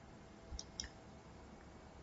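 A computer mouse is right-clicked on a folder, giving two soft, close clicks about a quarter second apart in an otherwise very quiet room.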